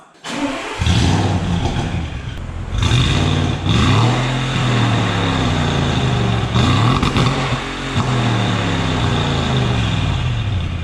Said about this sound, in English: now that we've modified the exhaust, it's back on the car, let's see how it sounds